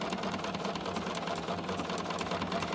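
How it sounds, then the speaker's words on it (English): A steady, rapid mechanical whirr with a fine rhythmic patter of stitching from a Bernina 770 embroidery and sewing machine, continuous and close, with no voices. "that's the stitch that the sewing machine is sewing"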